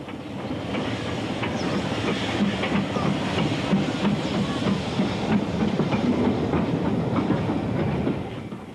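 A steam special top-and-tailed by Peckett 0-4-0 saddle tank No. 2104 and the Ginty rolls past in a steady, loud rumble with rail clatter and hiss, no voices over it.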